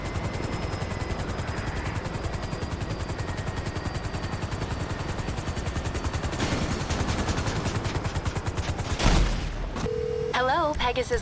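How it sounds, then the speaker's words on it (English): A helicopter in GTA Online beats with a steady rapid rotor chop, loud and close throughout, while a phone rings and a voice speaks near the end. "I called in a new helicopter"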